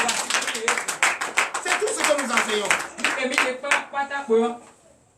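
A congregation claps during a Sunday worship service in church: rhythmic rounds of clapping and acclamation, fairly loud and close, with a preacher's voice speaking over and between them before the sound fades.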